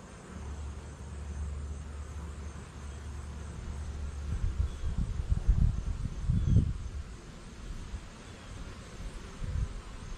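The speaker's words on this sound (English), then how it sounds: "So many bees, sometimes it's hard to see if there's queen cells because they're all over it" Honey bees crowd a hive frame, giving a low, steady buzz throughout, with a few louder rustling thumps near the middle.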